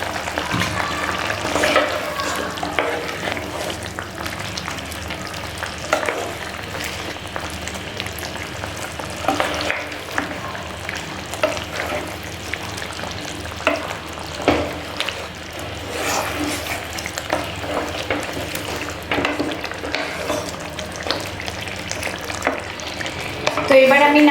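Fish curry stirred in a frying pan after a pinch of garam masala goes in, a continuous sizzle broken by repeated scraping strokes of the spoon, close and fairly loud throughout.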